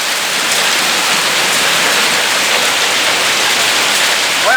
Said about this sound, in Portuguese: A pedra de gelo, ó. Olha a pedra.